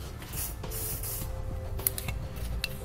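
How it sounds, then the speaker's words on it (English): Lubricant sprayed into the weld nuts on a trailer hitch frame of a 2018 Nissan, heard as several sharp aerosol hiss bursts with short pauses between them, close and fairly loud. "it's not a bad idea to spray some lubricant and clean out those weld nuts"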